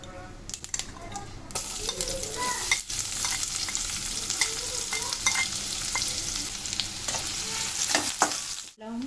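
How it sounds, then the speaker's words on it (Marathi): Chopped onion frying in hot oil with mustard seeds and cumin, a steady close sizzle with stirring scrapes and a few sharp clinks of a utensil against the pan, no voices. "कांदा एक मोठा मी कापून घेतले तो घालूया"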